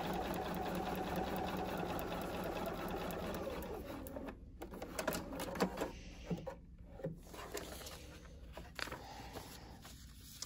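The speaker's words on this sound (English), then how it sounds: "So I'm going to take this to the machine and just stitch right down that line" A sewing machine stitches fabric along a seam line on a foundation paper pieced holiday tree block. It whirs steadily and close for about four seconds, then gives way to clicks, rubbing and handling noises.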